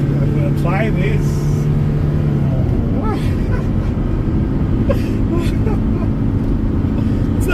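A Hyundai H-100 van with a 2.6 diesel engine accelerates to overtake on a highway, its loud, steady engine drone and road rumble filling the cab while someone talks over it.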